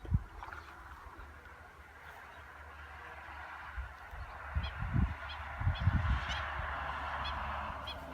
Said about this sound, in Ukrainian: Чайки, чайки. Чуєте?